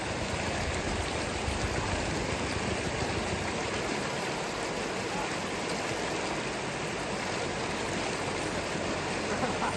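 Mountain stream water rushes steadily and loudly nearby on an enduro motorcycle trip in Bulgaria, a dense unbroken roar with no voices.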